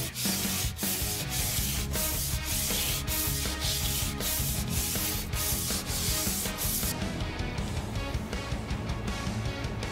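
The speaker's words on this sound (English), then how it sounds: "now, I'm going to start the hand sanding at 120 grit" Rhythmic rasping strokes of 120-grit sandpaper rubbed back and forth by hand on a San Mai Damascus steel katana blade, steady and close, continuing without pause.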